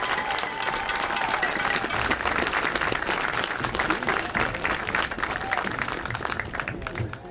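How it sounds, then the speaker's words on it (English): Steady, dense applause and crowd noise from spectators at a 2020 Ohio high school playoff football game between Chardon and Warren Howland, honoring senior band members, sustained and loud throughout without a break. "Ladies and gentlemen, a round of applause for our senior band members."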